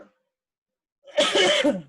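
A single harsh, close cough from a person with a cold bursts out after a moment of near silence, with a brief faint sound just before.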